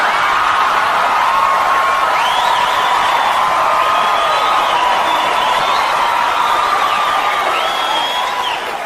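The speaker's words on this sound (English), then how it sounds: "you guys are clapping and you're laughing because you know" A stand-up comedy crowd applauding and cheering, steady dense clapping mixed with whoops and laughter filling the room, loud and continuous throughout.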